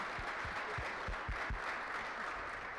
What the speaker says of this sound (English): please give a huge clap for these amazing presenters and